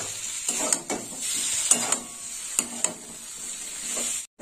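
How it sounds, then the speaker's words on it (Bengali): Poppy seed paste stir-fried in a pan for an elephant-foot-yam tok, with a soft continuous hiss broken by several sharp scraping strokes of a spatula, close by, with no talking. "দিয়ে দিলাম পোস্ত বাটা, আর পোস্ত বাটা দেওয়ার পরে একটু কষিয়ে নেব।"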